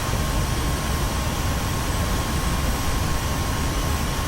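F-86F Sabre jet engine at takeoff in DCS World, a steady loud broadband roar with a faint constant whine, unbroken and without speech.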